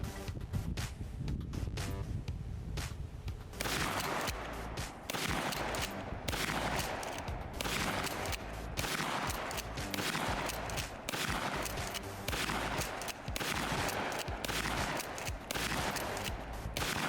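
Mossberg 590S shotgun fired in a long rapid string of fourteen rounds, loud repeated blasts closely spaced with rumbling echo and some wind noise, no talking.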